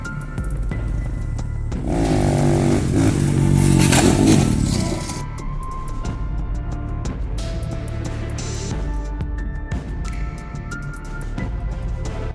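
A motorcycle engine in street crash footage, a loud buzzing rev that swells for a few seconds and then drops back, followed by a steadier engine drone with scattered clatter.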